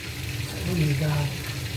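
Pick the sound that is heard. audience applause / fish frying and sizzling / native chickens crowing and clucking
fish frying and sizzling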